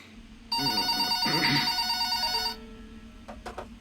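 A telephone rings in an animated story as a single loud, sustained electronic ring lasting about two seconds, followed by faint clicks as it stops.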